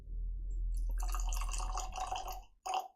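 Glendronach 21-year-old whisky pours into a glass with a soft trickling, splashing gurgle that builds over a couple of seconds before one final drip-like splash.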